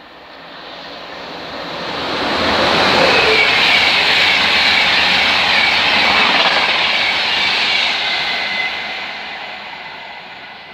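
A Class 91 electric train sweeps through Hitchin station on the East Coast Main Line, a broad rushing roar that swells over a few seconds, holds loud and steady, then slowly fades as it passes.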